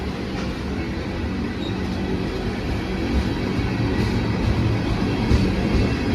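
A long Norfolk Southern freight train with many tank cars rolls steadily past close by, a continuous loud rumble of wheels and cars without pause, with no voices.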